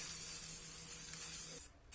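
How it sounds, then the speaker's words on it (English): A continuous hiss of a spray can releasing paint, steady for most of the moment before cutting off abruptly near the end. "I then do a very light spray of dark grey for texture"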